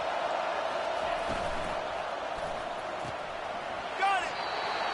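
Steady stadium crowd roar in an American football video game during a first-and-goal play, a constant wash of noise with a commentator talking over it and a brief whistle-like sweep near the end.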